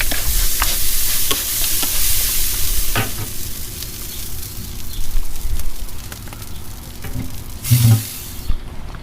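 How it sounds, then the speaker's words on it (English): Apple juice is spritzed onto a beef chuck roast smoking outdoors on an Oklahoma Joe's Bronco drum smoker, bursts of close spray hiss over a low background with a few faint clicks. "Just wanna spritz it down with some apple juice"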